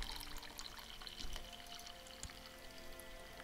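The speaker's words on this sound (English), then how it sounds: "I'm pouring coffee." Coffee being poured, a steady close liquid stream and trickle running throughout with a soft background hum and no talking.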